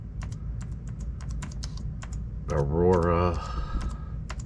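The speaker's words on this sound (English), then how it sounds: "So we have an Alienware Aurora R1. Type that in." Quick, steady clicks of typing on a computer keyboard run through the whole stretch, close and crisp, with a short spoken word partway through.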